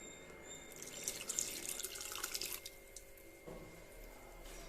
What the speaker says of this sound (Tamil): நம்ம இந்த மாதிரி ஒரு பாத்திரத்தில் ஒரு ஒயிட் கிளாத் வச்சுட்டு நம்ம காய்ச்சின பாலை இதில் ஃபில்டர் பண்ண